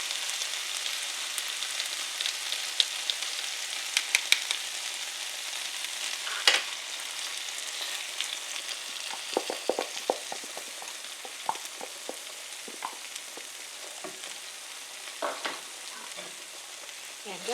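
Kung Pao chicken frying in a hot pan, a steady sizzle with scraping stirs and clacks of a utensil as sauce goes in, continuous and close with no talking.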